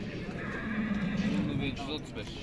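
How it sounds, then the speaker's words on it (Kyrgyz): A horse whinnies and neighs amid a crowded horse market where mares are sold with their foals, the call rising over a steady murmur of voices and bustle. "Бул жакта кулундубелер да бүгүн көп келиптир."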